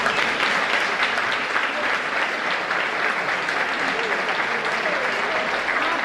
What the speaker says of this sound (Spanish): Dolfo Fernández, un aplauso.